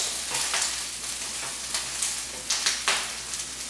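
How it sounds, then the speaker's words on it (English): Shrimp shells sizzle in hot olive oil in a pan with a close, continuous crackling fry, and brief louder bursts come as they are stirred. "First thing that goes in is our shrimp"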